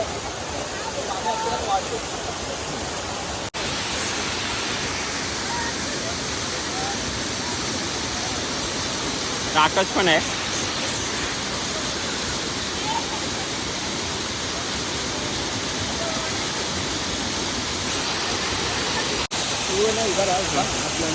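A waterfall near Dapoli, Ratnagiri, with low flow, roars as a steady, loud rush of water throughout, with a person briefly speaking over it.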